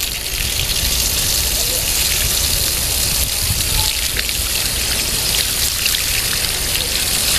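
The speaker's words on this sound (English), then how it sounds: "So we're going to rinse it at this point." Water rinses a K&N air filter in a steady, close, hissing spray that runs without a break and has no talk over it.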